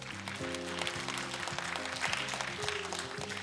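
A crowd at a Catholic awards ceremony in South Korea applauds steadily, the clapping dense and continuous, with a sustained musical tone running underneath.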